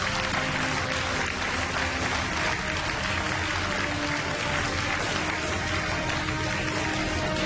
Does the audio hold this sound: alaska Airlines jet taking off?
no